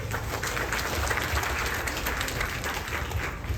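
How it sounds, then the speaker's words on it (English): Outdoor Ramayana gathering in a park, where a crowd applauds as a dense, steady wash of distant clapping, fairly faint and unbroken throughout. "Give them a round of applause."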